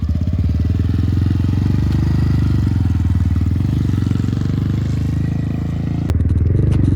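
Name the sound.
Honda Grom motorcycle being ridden in first gear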